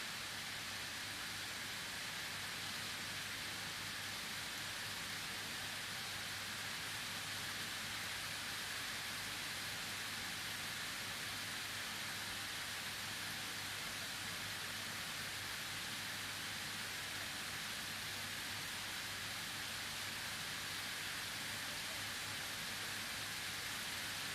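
Steady rain falls during an outdoor university graduation ceremony in Kenya, a constant, even hiss of drops filling the space with no speech and no breaks across the whole stretch.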